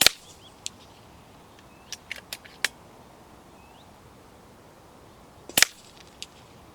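An FX Crown air rifle fires H&N Slug HP .217 21-grain slugs at 100 yards: two sharp, loud cracks, one at the start and one near the end, with a few fainter clicks and snaps in between over a quiet background.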